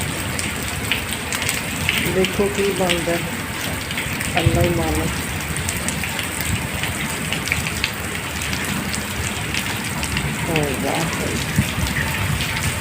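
Heavy rain pouring steadily for several days in a row, a dense continuous hiss of drops on surfaces filling the whole scene, with someone talking briefly over it now and then.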